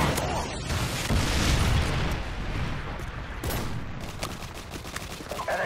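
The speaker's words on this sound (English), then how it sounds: "Friendly Predator missile inbound." Dense, continuous gunfire and booming explosions from a Predator missile strike in Call of Duty Modern Warfare 2, loud and steady throughout with rolling rumble, game effects filling the whole stretch.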